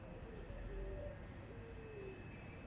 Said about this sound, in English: You can hear all the pigeons in here.